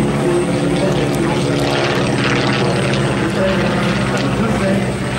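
Waco biplane at an ALAT air show in 2014, a continuous loud droning propeller engine roar passing close overhead, with someone speaking French over it.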